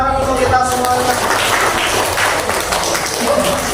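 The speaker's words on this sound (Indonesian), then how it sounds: "Tepuk tangan untuk kita semuanya." Audience applause in a classroom at a teacher-training session at a university in Klaten, a continuous patter of many hands under voices, with a brief tonal voice or chant at the start.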